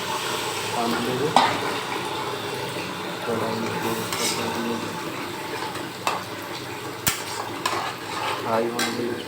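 Onion and masala fry in a pan with a steady close sizzle, broken by stirring scrapes and a few sharp metal clinks of a spoon against the pan.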